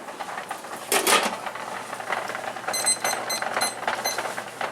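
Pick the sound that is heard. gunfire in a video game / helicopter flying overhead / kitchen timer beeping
kitchen timer beeping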